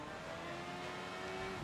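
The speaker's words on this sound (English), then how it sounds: "Took a long time to start this motorcycle." A motorcycle engine in the game Sleeping Dogs gives a steady revving drone, mid-level and continuous over a brief moment, with a rising tonal whine.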